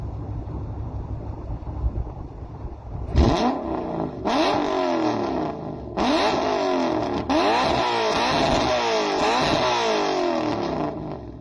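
A Toyota 1UZ V8 fitted with equal length headers revs repeatedly, each blip rising and falling in a loud, smooth growl after a quiet idle at the start.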